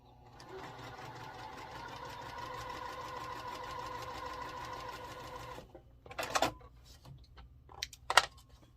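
A sewing machine stitches a quilt block from corner to corner, a fast, even mechanical whir running for about five seconds, followed by a couple of short rattles and clicks as the fabric is handled.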